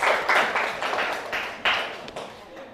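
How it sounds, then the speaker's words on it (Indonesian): A school class applauds a group presentation in a classroom, a short run of brisk, uneven clapping from several students that swells in bursts and then fades out. "Berikan aplaus"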